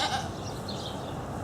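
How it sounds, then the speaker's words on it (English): Baby goats at a ranch bleat faintly and at a distance over steady wind and outdoor rumble, with no talk heard. "we got some baby goats"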